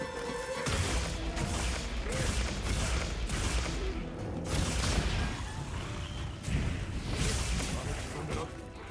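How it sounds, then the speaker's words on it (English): Switch Axe focus strike from Monster Hunter Wilds: a loud, dense barrage of heavy crashing impacts and booming hits that runs almost without pause, with a rapid rhythmic pounding. "look and listen to this particular focus strike"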